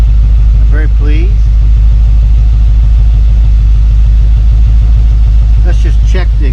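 A 1972 Mercedes-Benz 280SE 4.5 idles smoothly, a steady, loud low rumble with an even pulse, while people talk briefly over it near the start and end.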